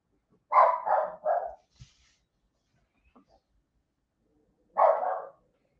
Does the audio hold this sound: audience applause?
no